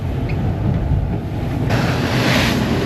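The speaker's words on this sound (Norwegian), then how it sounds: "Mye mindre bølger her nå enn det var i stad utenfor Gullholmen." Sea waves and strong wind are heard aboard a boat in rough water, a continuous broadband rush of wind buffeting the microphone and water washing past, which grows louder partway through.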